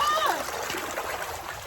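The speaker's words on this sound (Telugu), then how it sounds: "వాటర్ కూడా మంచిగా వస్తున్నాయి" Water flowing steadily in a forest stream, a continuous splashing trickle heard on a motorcycle ride with friends, with a brief whistling tone near the start.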